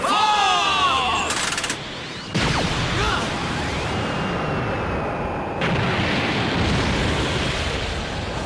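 The Gaon cannon blasting in the One Piece cartoon: a huge roaring burst followed by sustained rushing, surf-like noise and rumbling blast sounds, loud and continuous with sweeping tones.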